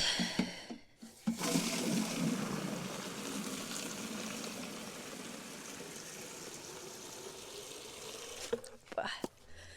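Water gushes and pours steadily for about eight seconds while being drawn to make an organic nettle fertilizer, a close, continuous splashing rush that stops abruptly, with brief knocks and handling noises at the start and end.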